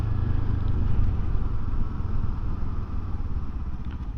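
Steady low rumble of a 2024 Kawasaki Ninja 7 Hybrid motorcycle slowing to a stop, close and continuous, easing slightly toward the end.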